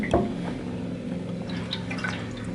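Liquid drains and drips from the carburettors of a Yamaha motorcycle, a steady trickle over a low hum with a sharper splash near the start, close and moderately loud.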